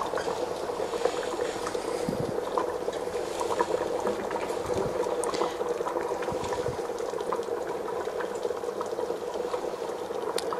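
Ginger and pineapple marmalade simmering in a pot after ninety minutes of cooking, a dense, continuous bubbling and popping with a few louder blips, close by and steady without any voices.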